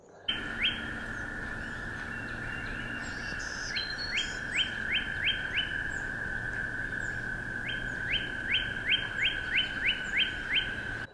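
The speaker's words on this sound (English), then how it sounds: "The first warbler species for this episode is this black-throated green warbler." A black-throated green warbler sings repeated bursts of quick, buzzy, high chirping notes, fairly faint and slightly distant, with brief pauses between phrases.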